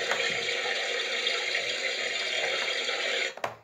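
Running water streams steadily while conditioner is rinsed out of a pet's fur at bath time, a close, even splashing flow that stops abruptly near the end with a couple of small knocks.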